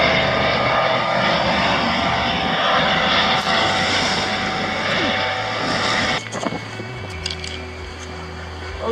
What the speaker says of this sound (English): a Coast Guard search and rescue helicopter keeps us company for an hour